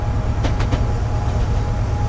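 A train in the video game Train Simulator, on the South Wales Coastal route, rumbles steadily while climbing a hill, a loud continuous low drone with faint rhythmic clicks over it.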